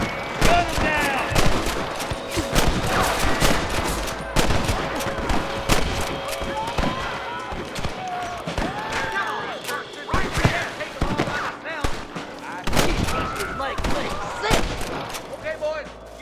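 Gunfire from a Wild West shootout in Red Dead Redemption 2, with sharp shots and bursts repeating throughout, mixed under game voices and shouting.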